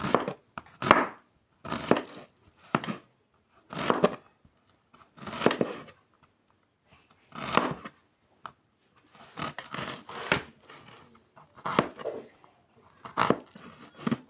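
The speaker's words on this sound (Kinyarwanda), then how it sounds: "itunguru umuntu agikata uko yumva ashaka, kata dutoya." Onion chopped into small pieces on a board at home, loud knife chops in short irregular bursts with brief pauses between them, no talking.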